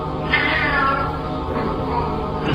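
A cat meows insistently, drawn-out wavering cries that rise and stretch into a caterwauling tone, heard continuously and fairly close with no talk over it.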